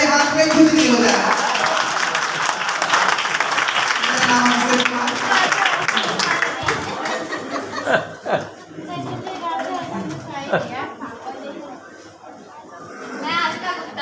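Audience at a staged performance of the Hindi play Andher Nagari Chaupat Raja by a theatre troupe breaks into loud, sustained applause mixed with chatter and some laughter. The clapping gradually thins out toward the end.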